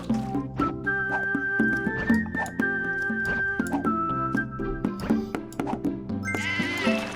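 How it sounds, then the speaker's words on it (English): Cartoonish sheep bleats from the Divide by Sheep puzzle game, several short calls rising over a busy backdrop of looping game music and chimes. "They give you so many sheep to play with,"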